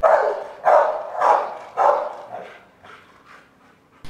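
A trained guard dog barks at an intruder, a run of about six loud, close barks that grow weaker and more spaced, ending in quieter yips.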